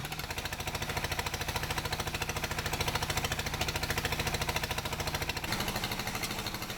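A water pump engine runs at an alluvial gold mining site on Sulawesi, a steady, rapid mechanical chugging and knocking that continues unbroken, moderately loud and close, with a slight shift in tone near the end.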